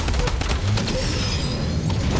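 Rapid bursts of Tommy gun fire in a video game match, dense and loud across a short span, with a brief voice over the shooting.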